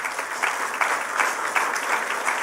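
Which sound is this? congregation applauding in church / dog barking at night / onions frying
congregation applauding in church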